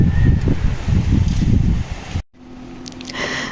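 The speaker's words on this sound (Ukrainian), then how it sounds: "Сьогодні отакий вітер сильний." Steady rushing wind noise buffeting the microphone with low rumbling gusts, cutting out briefly before a quieter, calmer stretch.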